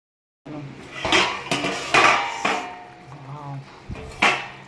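A metal lid goes onto a pot of cooking chicken with a series of loud clanks and clinks, metal knocking on metal several times at close range.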